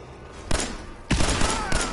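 Video game combat with grenade blasts and plasma weapon fire: three sharp, loud bursts of gunfire and explosions in quick succession, each with a noisy tail.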